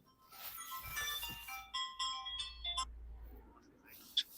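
A phone ringtone plays a bright, melodic run of tones for about two seconds, then fades. A faint voice murmurs in a quiet room, with a low rumble underneath and a sharp click near the end.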